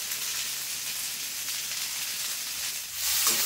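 Bitter gourd and potato frying in a pan with cumin-coriander paste, garlic and dried chilli paste, a steady close sizzle with a brief louder hiss near the end.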